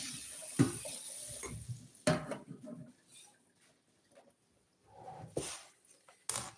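Running tap water splashes over raw chicken in a kitchen sink, coming in intermittent bursts with quieter gaps, near and moderately loud.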